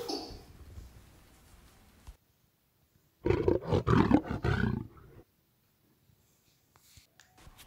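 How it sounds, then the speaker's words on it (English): An augmented-reality lion gives a loud, close roar of about two seconds, with a quieter rustle before it and near silence afterward. "This is the lion. Lion came to my house."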